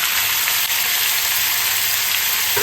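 Chopped medium-sized tomato hitting hot oil left from frying fish for a sweet pumpkin fish curry, a loud, dense, continuous close-up sizzle with no talking.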